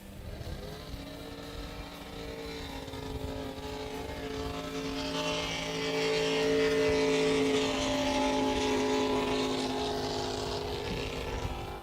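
A drag boat racing down the course during a qualifying run, a loud sustained engine roar with steady harmonic tones that swells midway and holds at a constant high level, no talk over it.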